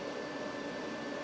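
A Koreana mini welding machine's blower fan running steadily with a constant airy whir and a faint high tone, fairly quiet and unchanging, with no speech.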